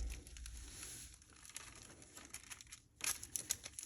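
Tissue paper crinkles and rustles while a paper bag farmhouse journal is being crafted, soft papery crackles coming in uneven bursts, close but faint, with a sharper crinkle near the end.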